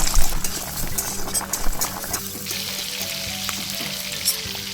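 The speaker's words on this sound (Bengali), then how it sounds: "কড়াইতে সর্ষের তেল দিয়ে সেটিকে গরম করে একে একে পেঁয়াজ কুচি দিয়ে ভালো করে একটু ভাজলাম" Chopped onions fry in hot mustard oil in a wok, giving a loud, busy sizzle with crackling pops. The sound is strongest at the start and then settles into a steady frying hiss.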